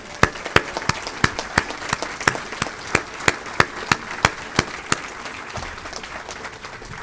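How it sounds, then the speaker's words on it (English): An audience at a Memory and Aging Project participants' meeting claps, and sharp, evenly spaced claps ring out over a broad wash of applause. The clapping continues steadily, then fades near the end. "Let's give them a huge round of applause."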